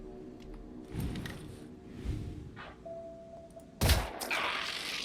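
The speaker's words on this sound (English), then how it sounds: "give 2 pistol shots against the guy" Pistol shots in the tactical game Phoenix Point, a few sharp game gunfire bursts spaced apart, the last one loudest and followed by a brief ringing tail.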